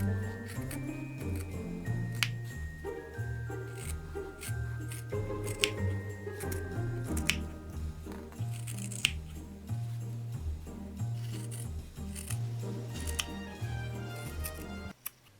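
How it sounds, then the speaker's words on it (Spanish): Scissors snip through patchwork fabric around a paper pattern for a Christmas tree, with short crisp cuts repeating under steady background music. "Cortamos con las tijeras alrededor del patrón a medio centímetro."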